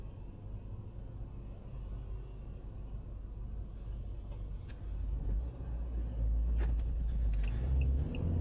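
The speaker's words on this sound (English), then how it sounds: "I'll just wait for all the cars to come past in this roundabout." Cars passing through a roundabout on a Welsh road, heard from inside a waiting vehicle as a steady low traffic rumble that swells louder in the second half as vehicles go by close.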